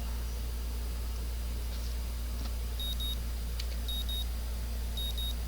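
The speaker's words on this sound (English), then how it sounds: "My morning alarm goes off" Morning alarm in the visual novel Katawa Shoujo, with short electronic beeps in quick pairs repeating over a steady hum, fairly faint.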